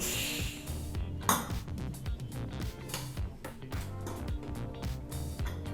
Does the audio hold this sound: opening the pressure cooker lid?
yes